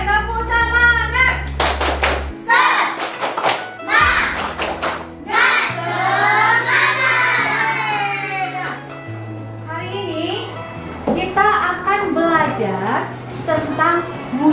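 Schoolchildren in a classroom at an Islamic primary school do a rhythmic spirit-clapping chant, with patterned claps under loud, sing-song children's voices and a teacher's voice leading the cheer.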